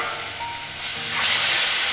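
Tomatoes sauté in a hot pan with a close, hissing sizzle that swells louder and brighter halfway through, likely as they are stirred.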